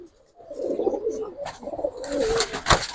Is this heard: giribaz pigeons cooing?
yes